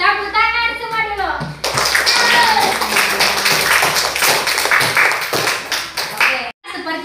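A classroom of children clapping their hands together in a dense, steady burst of applause that runs for several seconds, after a short spoken phrase from a teacher at the start.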